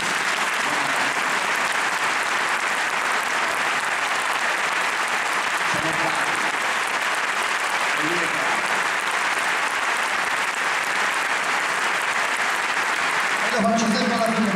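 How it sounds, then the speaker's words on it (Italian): An audience applauds the orchestra musicians at a live concert, a long unbroken wash of clapping at steady loudness, with brief voices and a few tonal sounds surfacing now and then through it. "C'è un applauso a questi grandi orchestrali."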